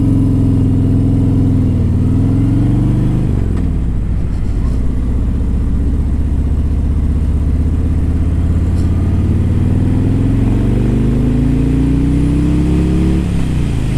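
A 2017 Harley-Davidson Road King Special with a Milwaukee 8 engine revs loudly and close, holding a deep steady rumble with several rises and falls in pitch.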